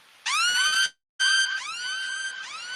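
A rising, wailing electronic siren sweep, the 808 Mafia beat-tag effect, plays loudly, cuts out briefly, then returns with a longer sustained wail, no voices.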